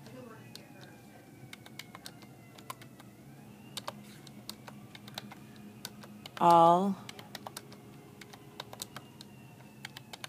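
Keys on a Casio 9860GII graphing calculator are pressed in a string of small, crisp, irregular clicks, close and quiet, with one brief spoken word partway through.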